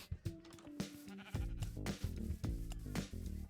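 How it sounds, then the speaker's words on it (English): Minecraft sheep bleat in a game world, several quavering baa calls in quick succession, fairly faint, with the in-game sounds layered around them. "This is sheep."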